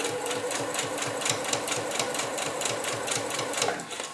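A sewing machine driven by its foot pedal stitches along the folded edge of a belt loop, a close, steady rapid chatter of needle strokes running evenly throughout.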